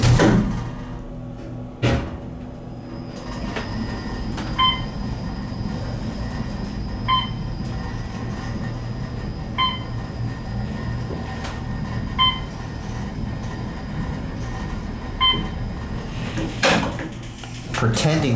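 An Otis Series M2 traction elevator door closes at 331 W. Main St., with soft knocks at the start and end over a steady machinery hum, and a faint tone chiming at regular intervals throughout.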